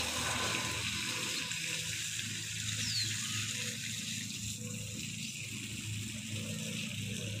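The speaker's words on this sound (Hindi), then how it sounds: "इन पौधों को पानी लगा दिया है।" Water poured over potted plants in grow bags while watering, a steady broadband rushing and splashing stream that carries on evenly throughout, close and fairly loud, with no speech.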